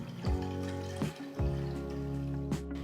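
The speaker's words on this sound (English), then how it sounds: "To a saucepan pour enough water." Water poured into a saucepan for a double boiler: a few short splashing gushes with a ringing, hollow metallic resonance, close and fairly quiet.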